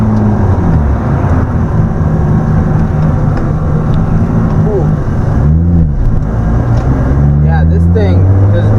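Modified 1996 Lexus SC300 with a 700 hp build idles steadily and loudly up close, a dense continuous engine rumble that holds even throughout, with someone talking over it the whole time.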